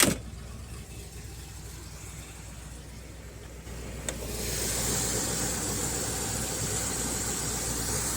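A 1968 Corvette's 327 V8 engine, rated 350 horsepower, idles with a low, steady rumble, then settles into a slightly louder, even hum after a small click midway.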